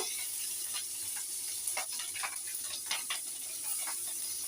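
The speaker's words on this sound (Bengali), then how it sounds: "এবারে আমি ওটার মধ্যে দিয়ে দিচ্ছি 5 ফোড়ন, কিছুটা কাঁচা লঙ্কা।" Five-spice seeds and green chillies sizzling in hot oil, a bright continuous hiss broken by crackling pops and spits, close and fairly loud with no talking.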